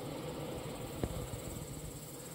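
Honeybees swarming and clustering in layers on the outside of a three-tier hive give off a steady, dense buzzing hum throughout, with one brief knock partway through.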